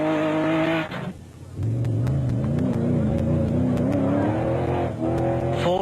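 A V6-powered Nissan Hardbody off-road race truck in a production-vehicle desert race drives hard, its engine revving through gear changes with a brief dip, loud and close, with sharp ticks and clatter over the roar.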